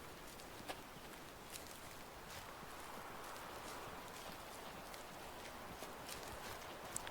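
Animals from a spooked herd in Way of the Hunter run off through brush, a soft stream of hoofbeats and rustling heard at a distance with no talk.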